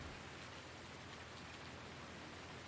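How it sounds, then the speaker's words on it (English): Steady rain falls in Farming Simulator 19, a dense, even hiss that runs on without a break and has no voices over it. "constant noise of the rain is just annoying as all bedevilment"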